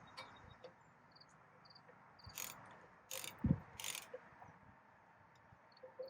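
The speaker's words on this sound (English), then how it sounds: "use your ratchet to tighten it up" A hand ratchet tightens a swung-around hook clamp on a carbide-toothed saw, giving three or four short, sharp clicking bursts over a quiet, faintly hissing background.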